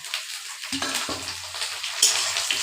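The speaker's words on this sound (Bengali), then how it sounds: "এখন দিব টমেটোটা" Tomato dropped into a sizzling pan of mung dal, a sudden loud hiss that swells into steady close frying sizzle with a few stirring sounds.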